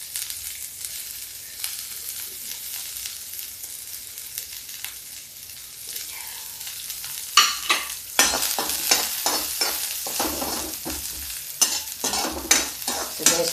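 Thinly sliced onions frying in a pan, a quiet hiss that grows into a louder crackling sizzle midway, with repeated scraping strokes of stirring up close and no speech.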